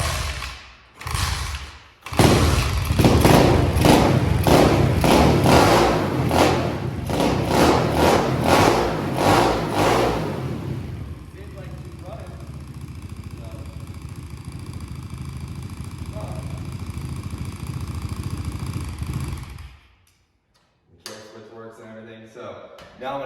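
A small engine with a replaced magneto stator ignition coil, needing a carburetor cleaning, sputters, catches and runs loudly with a rough, steady roar, then settles lower before cutting out.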